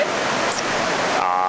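Rushing river water in the mountains of Georgia, a steady broadband roar close by throughout, with a brief brighter splash partway through and a faint tonal hum near the end.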